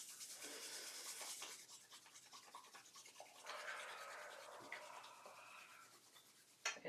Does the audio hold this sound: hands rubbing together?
yes